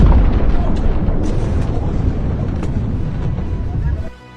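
A missile carrying a 1,100-pound warhead explodes in a loud, continuous rumbling blast that roars for about four seconds and then cuts off abruptly.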